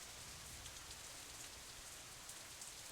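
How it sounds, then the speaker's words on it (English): Steady rain falling in the visual novel game Katawa Shoujo, a soft, even hiss of drops on surfaces throughout, faint and continuous with no voices. "Oh, we're walking in the rain."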